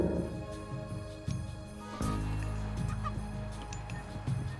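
Chickens in the real-time strategy game Age of Mythology give clucking and squawking fowl calls over a dense game soundscape, with a sharp sound effect partway through. The calls are moderately loud and there is no talking.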